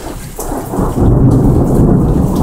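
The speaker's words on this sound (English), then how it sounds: "there's some thunder." Deep thunder rumbling through a heavy rainstorm, building to a loud sustained roll over constant rain noise, with no voices.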